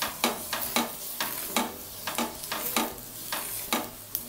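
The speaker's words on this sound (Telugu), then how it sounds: "పైన లేయర్ కట్ చేసి తీసుకుని ఆయిల్ వేసి దానికి బాగా రుద్దాలి" A halved onion dipped in oil and rubbed over a hot dosa pan, giving a string of short, evenly spaced scraping sizzles, close and fairly quiet, with no talking.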